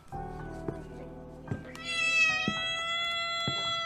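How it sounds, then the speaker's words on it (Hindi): A cat gives a long, drawn-out meow partway through, over low sustained tones and a few dull, evenly spaced thuds. "उसे बिल्ली की आवाज आई।"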